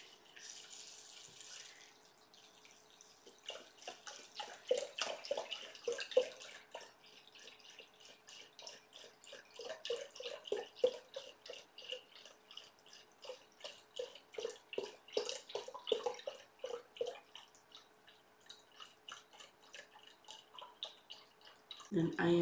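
Mushroom broth is poured into a pot up to the one-cup mark for a mushroom rice porridge, making close, uneven bursts of trickling and splashing liquid that come and go in short pulses.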